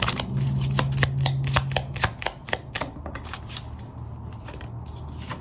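A deck of Lenormand fortune-telling cards is shuffled close up during a tarot reading. There is a burst of rapid, crisp riffling clicks, then a softer, steady shuffling rustle.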